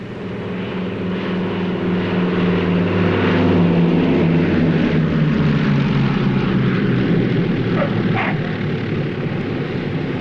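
A propeller airplane in the 1947 film The Beginning or the End drones steadily and loudly for about ten seconds, a continuous engine roar with a low throbbing hum.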